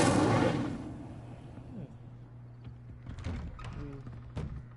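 Incendio fire spell cast in the game Hogwarts Legacy, a loud burst at the start that decays, followed by softer thumps and clatters over a steady low game hum.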